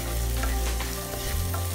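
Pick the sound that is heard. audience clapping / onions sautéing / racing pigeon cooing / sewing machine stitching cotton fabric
onions sautéing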